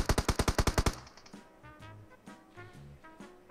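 Automatic gunfire from a Groza rifle in a shooter video game fires as a rapid, loud burst of about nine evenly spaced shots. Quieter, softer game sounds follow it.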